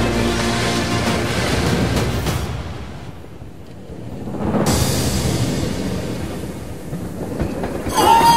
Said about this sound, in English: Untamed traveling on board of one of the most luxurious trains in the world on the Coppertrail journey